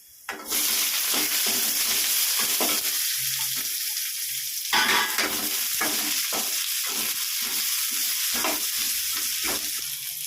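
Chopped onions fry in a pan for a ridge gourd dish: a loud, continuous sizzle starts abruptly and carries on, broken by regular scraping stirs close by.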